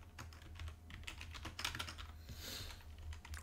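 Someone types an email password on a computer keyboard, a run of quick, light key clicks with uneven rhythm, close and fairly quiet over a low hum.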